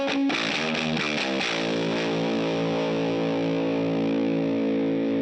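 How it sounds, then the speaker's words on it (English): An electric guitar runs through a ProCo RAT distortion pedal set to low gain, a struck chord ringing out with mild grit and sustaining steadily for several seconds. "You can hear the distortion, but it's not as distorted as the main sound from the song."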